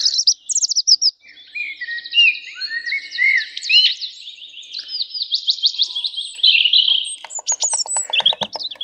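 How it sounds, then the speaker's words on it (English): Recorded birdsong comes through a Wi-Fi internet radio: several birds chirp and trill in quick, overlapping phrases, bright and clear, ending with a run of rapid staccato notes. "Some birds."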